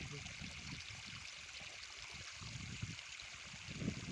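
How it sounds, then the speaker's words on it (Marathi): Irrigation water runs evenly along furrows in a sugarcane field, a steady soft trickling and streaming wash that holds level throughout, with faint low rustles underneath. "म्हणजे सगळ्या काकरेमध्ये एक समान पाणी जातो"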